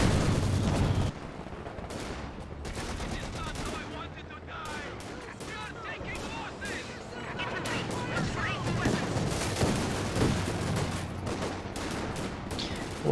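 Dense, continuous gunfire with scattered booms in a Company of Heroes 2 match, a machine gun among the shots, loud and busy throughout with some talk mixed underneath.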